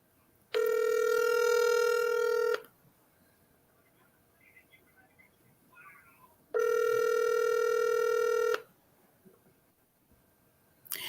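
A telephone call rings out from the caller's end: two long, steady electronic ring-back tones about two seconds each, separated by a quiet pause, loud and close on the line.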